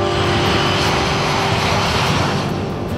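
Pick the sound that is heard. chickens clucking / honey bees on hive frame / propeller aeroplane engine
propeller aeroplane engine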